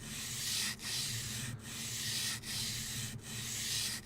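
A blade is honed by hand with a honing guide, making four even back-and-forth rasping strokes, each with a brief pause between, close and quiet with no talk.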